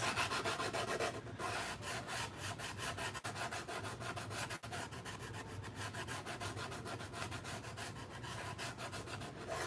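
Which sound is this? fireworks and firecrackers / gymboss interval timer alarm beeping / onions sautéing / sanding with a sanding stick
sanding with a sanding stick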